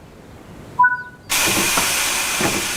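A steam locomotive gives off a sudden, loud, steady hiss of released steam in the railway simulation game Train Sim World 4, coming right after two short whistle-like tones, with no talking.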